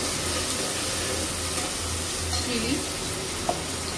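Chopped onion and chili frying in a pan, a soft steady sizzle with faint stirring and one small clink near the end, no voices.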